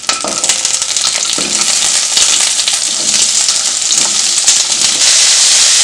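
Garlic and onion frying in hot oil, a loud close crackling sizzle that swells and stays intense, with scattered stirring knocks.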